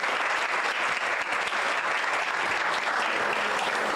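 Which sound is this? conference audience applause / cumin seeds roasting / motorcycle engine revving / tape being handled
conference audience applause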